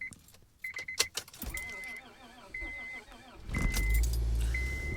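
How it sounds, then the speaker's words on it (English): A car starts on a freezing winter morning at about minus 14 degrees: a key-chime beeps at intervals and keys jingle, then the engine catches and settles into a loud, low rumbling idle, with a voice speaking faintly early on. "I'm going to see if my car starts."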